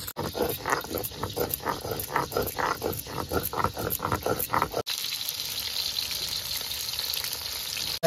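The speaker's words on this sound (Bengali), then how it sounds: "ভাজা হয়ে যাচ্ছে, আমি অন্য সাইডটা পাল্টে দিচ্ছি।" Parshe fish sizzles and spits in hot oil in a pan, a loud, steady crackle broken by bursts of spatter during the first five seconds, then a smoother, softer hiss that carries on to the end.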